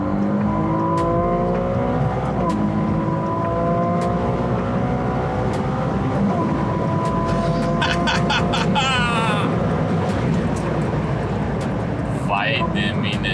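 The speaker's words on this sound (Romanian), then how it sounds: "se poate vedea foarte ușor și cât de repede accelerează mașina asta" A Ferrari switched into race mode on its Manettino accelerates hard, its engine note climbing through several rising revs and gear changes, loud and close from inside the car, with voices talking over it.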